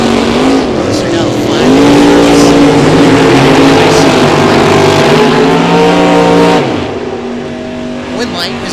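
A 1966 Chevy II drag car in the right lane at a bracket race, engine roaring loud and close with a steady high-rev pitch that rises, holds, then drops sharply as it pulls away, ending in a fading rumble.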